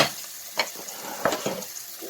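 Onions sizzle and crackle in a hot pan, with several short bursts of stirring or scraping over a steady frying hiss, close and moderately loud.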